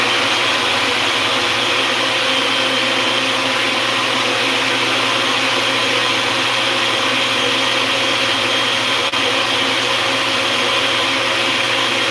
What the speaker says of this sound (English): Then you're gonna put it in the blender.